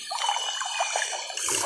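A dinosaur drinking water in a video game, heard as a steady soft trickling, lapping stream sound that runs for under two seconds and ends with a brighter splashy burst.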